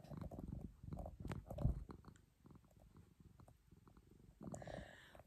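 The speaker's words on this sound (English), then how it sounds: "little Miss is purring up a storm in my lap already" A cat purrs while settled in a person's lap, a soft, steady, low rumbling that is close and quiet, with faint rustling in an otherwise calm room.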